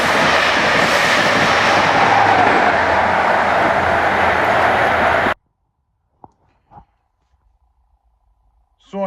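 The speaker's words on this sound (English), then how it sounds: "Please stand clear of platform edge, fast train approaching." A fast train thunders past a station platform with a loud rushing roar and rumbling wheels, then cuts off abruptly into near silence with a few faint knocks.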